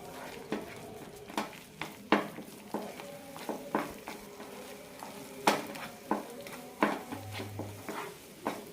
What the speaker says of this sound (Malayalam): ലോ ഫ്ലെയിമിലിട്ട് നന്നായി മിക്സ് ചെയ്തെടുക്കാം